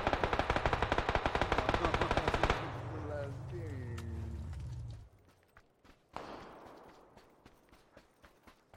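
Video game gunfire in a ranked match: a loud rapid burst of automatic shots for about two and a half seconds, then a fading tail, a pause and a few scattered softer impacts, with players talking.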